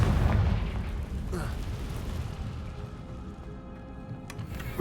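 A Confringo spell explosion in Hogwarts Legacy, with a loud booming burst at the start that rumbles away under game sounds.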